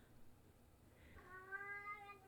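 A cat lets out a single drawn-out, agitated meow near the end, fairly quiet, over faint room noise.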